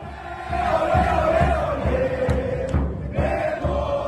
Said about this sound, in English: The slogan-chanting crowd waved the Bolivian and Huipala flags and banners expressing solidarity with Morales and the people of Bolivia